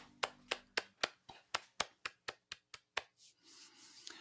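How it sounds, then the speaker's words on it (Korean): In a church prayer meeting, a dozen crisp hand claps land in a quick, even rhythm at close range and very low volume, then trail off into quiet room noise. "하나님께 영광의 박수 올려드리겠습니다"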